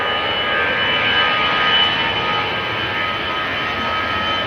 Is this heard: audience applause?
no